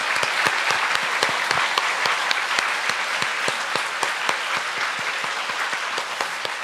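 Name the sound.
church congregation applause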